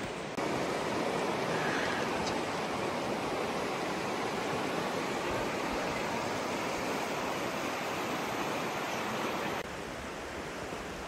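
River water rushing along a hiking trail, a dense, continuous broadband roar that stays steady and fairly close for the whole stretch, with no voices.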